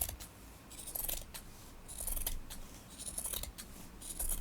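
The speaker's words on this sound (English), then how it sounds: "I'd rather just cut it apart like this with the scissors" Scissors snip steadily through quilt lining fabric, close up, with a rapid run of crisp repeated cuts and no talking.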